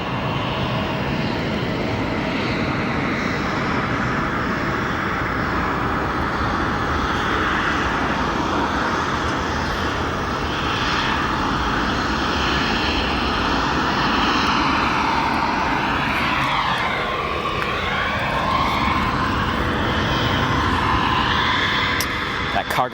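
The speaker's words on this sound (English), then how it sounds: "we catch this Dreamliner arriving" Boeing 787 Dreamliner arriving at Chicago O'Hare airport, its loud sustained engine roar swelling and sweeping in pitch as it passes close by, with someone talking over it.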